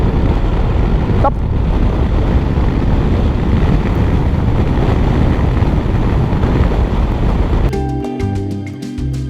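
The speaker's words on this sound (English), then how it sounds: "So yeah, a lot of wind coming at me." Loud, steady wind roar buffets the rider of a Kymco DT X scooter on the move, filling the whole stretch before abruptly giving way to a different, quieter sound near the end.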